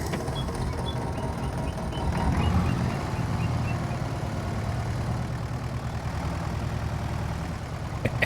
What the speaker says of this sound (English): The single piston tractor making its debut on the farm.